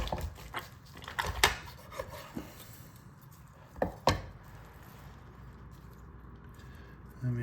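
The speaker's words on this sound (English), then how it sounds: "I'm not the greatest at slicing stuff" A knife slices through Cajun-seasoned chicken cooked in cast iron, giving a few scattered, fairly quiet cutting and tapping knocks against a board with gaps between them.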